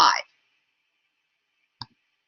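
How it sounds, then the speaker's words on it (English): A single sharp computer mouse click after a short burst of speech, the rest nearly silent. "So what I want to do is I want to go ahead and click on that"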